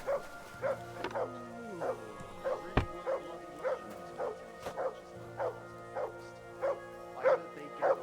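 In the medieval game Kingdom Come: Deliverance II, a dog barks in a steady, regular series of about a dozen moderate woofs over a low background hum, with a sharp knock partway through.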